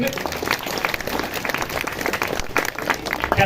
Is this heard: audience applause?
yes